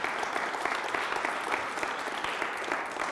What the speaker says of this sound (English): John, Joe, Jim, Chris, let's give them a nice round of applause.